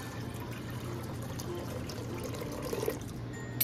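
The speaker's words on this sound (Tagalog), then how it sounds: "Lagyan po natin ng tubig." Water pours into a cooking pot on a stove, a steady continuous splashing fill that runs throughout at moderate level, with no talk.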